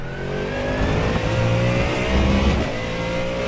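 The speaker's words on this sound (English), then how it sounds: "So enjoy the sound of the Ford Mustang GT3." Ford Mustang GT3 race car engine revving hard in the iRacing sim during an endurance race at Navarra, a loud, steady motor drone with rising gear-change harmonics and no talk.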